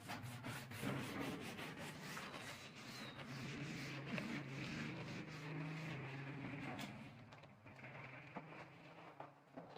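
A board being rubbed clean during a physics lecture, with a continuous quiet scrubbing and rubbing that runs steadily throughout, faint and alone without talk.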